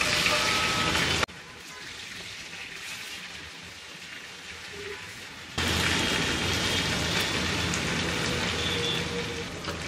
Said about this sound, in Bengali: এক পিঠ 4-5 মিনিট ভেজে এগুলাকে উল্টায় ওই পিঠটা ভেজে নেবে একটু বাদামি করে।